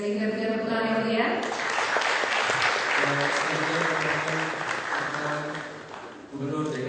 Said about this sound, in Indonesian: Sekali kita berikan tepuk tangan yang mulia.